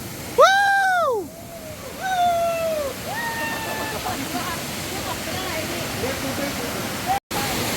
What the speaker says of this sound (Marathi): हा जो तुम्ही छोटा धबधबा बघताय